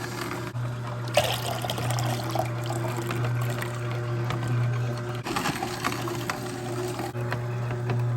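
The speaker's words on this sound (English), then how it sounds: "I'm doing the carrots first because I like to juice my darker vegetables last." A juicer grinds carrots with a steady, loud mechanical whir and hum running throughout, with wet pulpy spatters and small knocks as pieces are fed in.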